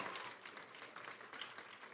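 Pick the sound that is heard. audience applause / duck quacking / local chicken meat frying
audience applause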